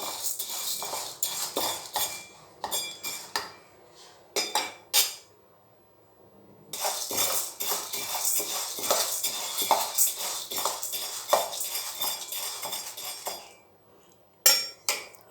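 Urad dal roasting in a pan for minapa sunnundalu, with rapid metallic scraping and clinking of a spoon stirring against the pan in busy bursts, pausing briefly before resuming close and steady.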